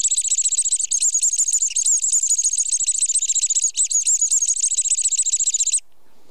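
Songbird distress call imitated on a Vogelklage predator call, a continuous high, rapid squealing trill that runs steadily for about six seconds, loud and close, then cuts off.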